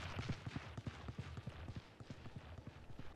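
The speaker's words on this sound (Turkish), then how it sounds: "Sol tıka basıyorsunuz ve sanki o yöne gidiyormuş gibi bir ayak sesi çıkartıyorsunuz" Fake decoy footsteps from Yoru's ability in the shooter game Valorant: a fast, even run of hard thudding steps repeats throughout at moderate distance, without any voices.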